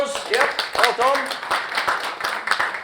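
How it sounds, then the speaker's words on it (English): Clapping for a speaker at a club seminar, with sharp individual hand claps in an uneven rhythm while people talk and cheer over them nearby. "Let's give Florian a round of applause"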